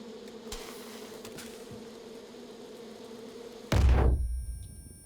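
Bees from the video game Far Cry 5 buzz in a low steady drone for several seconds, then a sudden heavy thump cuts in and the buzz fades away.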